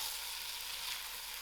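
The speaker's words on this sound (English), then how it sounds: "3 minutes has passed while the meat was frying out." Ostrich meat sizzles steadily in a pan for a spicy goulash, a continuous broadband frying hiss at moderate level with no voices.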